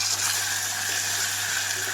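Ginger garlic paste frying with golden-browned onions in a pan, a steady, even sizzle that holds throughout without a break.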